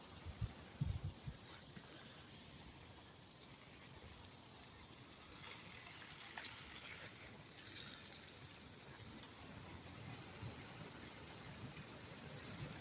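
Water pours and patters softly over garden plants in a faint, continuous shower with scattered drips and splashes, quiet and without talk.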